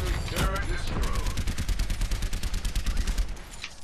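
Rapid automatic gunfire from Soldier 76's rifle in the Overwatch video game plays as a fast, steady stream of sharp shots for several seconds. A player's voice is heard over the shooting.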